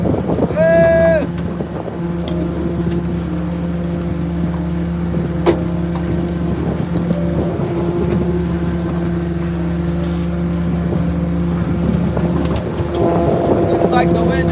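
A loud boat engine drones steadily while the boat runs at night, a heavy low rumble with wind buffeting the microphone throughout, and a voice speaking intermittently over it.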